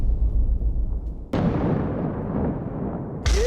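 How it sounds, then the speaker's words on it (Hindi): A drone attack on an ammunition depot in a residential house used as a weapons store in Ukraine sets off a sudden broadband blast, followed by sustained rumbling and crackling noise, and another sharp burst near the end. "ये आया ड्रोन और ये देखिए धमाका"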